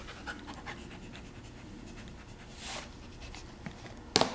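A dog pants softly and steadily while tugging a shoe off a person's foot indoors, quick faint breaths close by, ending with a brief sharp knock.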